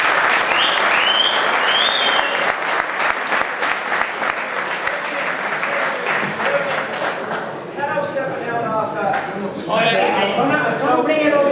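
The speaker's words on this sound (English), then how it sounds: "deserve a round of applause" A meeting hall audience at a regional pigeon racing club gathering breaks into loud, sustained applause, dense clapping for several seconds before voices and chatter rise over it and the clapping fades.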